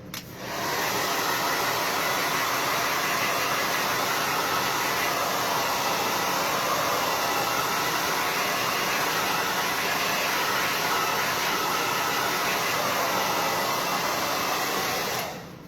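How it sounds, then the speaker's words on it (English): A hair dryer blows steadily at close range on transfer paste, a constant loud whooshing roar that runs unbroken for the whole stretch. "I'm going to blow dry that"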